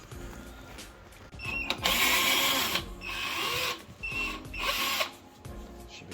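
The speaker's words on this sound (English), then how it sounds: "now we're gonna be taking off these hex screws" A power driver whirs in repeated bursts while removing hex screws from a Honda Accord bumper, close and loud with short whining pulses, amid clattering tool and handling noise.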